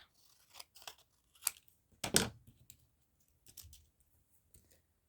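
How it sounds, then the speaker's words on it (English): Small fussy-cutting scissors snip through a used Christmas card in short, irregular bursts of crisp close-up cuts separated by brief pauses. "hopefully these will cut, my wee fussy cutting scissors will cut the card okay"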